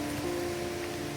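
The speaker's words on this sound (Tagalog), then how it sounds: "sa lakas ba naman ng ulan?" Heavy rain falling steadily during a tropical storm in flooded Philippine surroundings, a dense continuous wash of drops heard alone with no talk.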